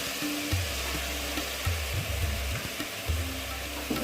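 Tomatoes sauté in a pan for spinach sambar with broad beans, a continuous close sizzle of frying with soft stirring scrapes and low bubbling underneath, no voices.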